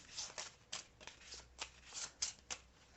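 Mage Knight tactic cards are riffle-shuffled up close, making a quick series of crisp, fluttering bursts, about a dozen in a row, with no talking.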